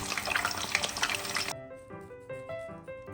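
Shrimp heads frying in a pan of oil give a dense, crackling sizzle for about a second and a half, close and steady, before cutting abruptly to music.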